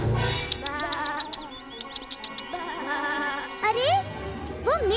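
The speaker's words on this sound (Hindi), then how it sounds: "अरे, वो मेरी भेड़ें हैं।" Sheep in a Little Krishna cartoon bleat in short, wavering calls scattered across the scene, mixed with music and cartoon effects and a faint insect-like buzz.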